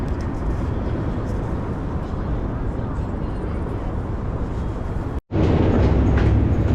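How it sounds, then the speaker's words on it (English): A Manhattan-bound F local train runs through the New York City subway, a loud, continuous rumbling roar that cuts out abruptly and resumes, with background voices in the station. "This is a Manhattan-bound F local train."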